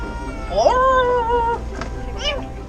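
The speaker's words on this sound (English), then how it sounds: "this sound of a kitten in distress" A distressed, underweight rescued kitten gives a drawn-out plaintive meow, then a couple of shorter cries, loud and close over faint background noise.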